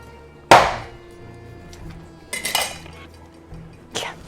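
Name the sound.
tapping a coconut shell with a knife to crack it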